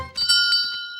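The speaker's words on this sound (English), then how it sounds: "where they must ring the bell" A small checkpoint bell in a kids' cartoon rings in a few quick, bright strikes, its clear metallic tone ringing on and fading slowly, close and alone.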